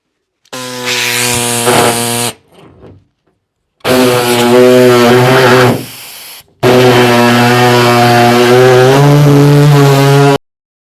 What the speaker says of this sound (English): Just enough to get my jigsaw bit, or just enough to get my bit through.